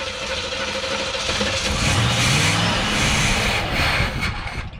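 A floatplane engine cranks and catches, then runs and revs up loudly and steadily close by, with a brief voice near the start.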